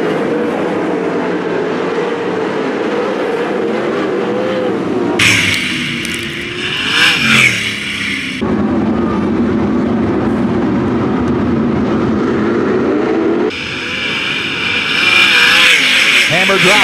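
410 sprint cars race at Attica Raceway Park, a loud sustained engine roar that swells and shifts as cars pass close by, with an excited race commentator talking over it throughout.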